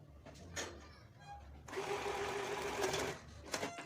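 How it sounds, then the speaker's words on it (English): A sewing machine stitches along the edge of a hijab with lace, a close, steady whirring run of about a second and a half between light handling taps and fabric rustle. "Yeah, so I'm just going to be sewing over it."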